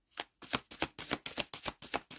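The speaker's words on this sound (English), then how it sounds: "So hard to shuffle." A deck of cards is shuffled close up in a quiet room, with about eight quick, crisp riffling bursts following one another in a steady rhythm.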